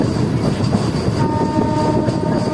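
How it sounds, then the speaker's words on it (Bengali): A passenger MEMU train runs along the tracks after crossing an express at Pandabeswar station on the Rampurhat–Andal line, giving a steady, loud rumble with faint rail hum and squeal tones throughout, no voices. "এক্সপ্রেস ট্রেনটির সঙ্গে ক্রসিং করে আমাদের ট্রেন ছেড়ে দিল পাণ্ডবেশ্বর রেল স্টেশন"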